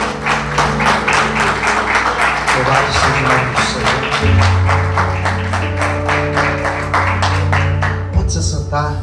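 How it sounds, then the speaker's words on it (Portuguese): A church congregation applauds loudly and steadily in quick rhythmic claps over sustained organ or keyboard music, while a voice speaks and sings over the clapping. "Vamos aplaudir Jesus,"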